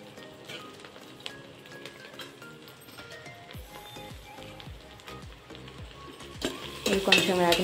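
Sliced onions sizzling in hot oil in a pan while a spoon stirs and scrapes against the metal, frying for egg biryani; steady crackle with clinks, getting louder near the end.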